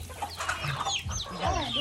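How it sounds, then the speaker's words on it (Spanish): A crowd of chickens clucks and squawks busily while being fed in a village yard, their overlapping calls dense and close, with a busy farmyard din around them. "Dándole de comer a las gallinas, Eric."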